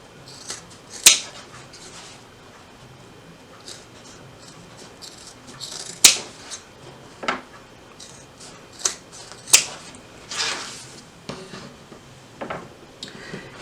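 Sharp, scattered snips of scissors trimming the fabric corners of a boxy pouch, a dozen or so crisp cuts spaced irregularly over a quiet room background with no talking.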